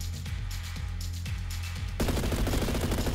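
P90 submachine gun fire in a first-person shooter game, rapid bursts of close, loud shots, sparse single reports at first and then a dense continuous stream of automatic fire.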